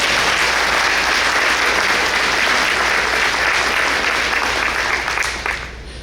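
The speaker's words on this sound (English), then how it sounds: "I honestly think that deserves a round of applause" Audience applause at a school district breakfast event, a dense, loud wall of clapping from a large crowd sustained for several seconds before thinning out near the end.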